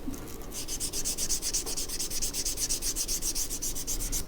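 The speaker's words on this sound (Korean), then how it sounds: "사포질을 1차로 해줍니다" Sandpaper rubbed back and forth along the cut edge of a piece of leather to round the corner, making a steady, close rhythmic scratching with regular strokes and no talk.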